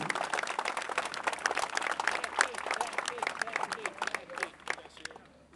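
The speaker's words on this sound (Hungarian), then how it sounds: "Egy taps mindenképpen jár, this clap is for you." Audience applause at an outdoor garden party fills the space with dense, steady clapping that swells and then thins out toward the end.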